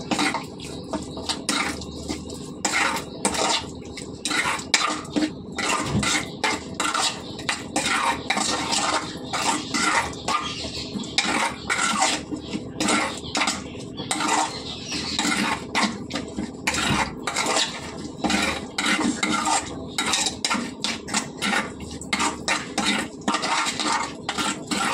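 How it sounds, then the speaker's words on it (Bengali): Food is mixed by hand with raw oil in a dish, with continuous squelching and mashing and frequent sharp clinks of utensils against metal plates and pots. The clatter is close and busy, with no talk. "এবারে কাঁচা তেল, যেটা মোস্ট ইম্পর্টেন্ট, আরে ভালো করে মেখে নেব।"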